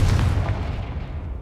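A blasting Confringo spell explodes in Hogwarts Legacy, one loud, deep boom up front that then rumbles and fades over a second or so, with nothing else heard.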